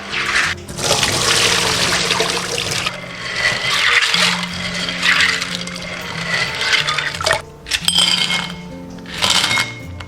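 Supermarket clams, already purged of sand, being rinsed under running water: a loud rushing stream with clinks and rattles of shells knocking together, swelling and pausing in bursts.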